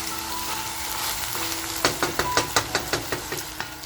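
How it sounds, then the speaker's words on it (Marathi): Mutton fries with fenugreek in a pan, a continuous sizzle broken by a quick run of rhythmic scraping stirs near the end, close and fairly loud. "मग आपलं मटण असं छान फ्राय झालंय"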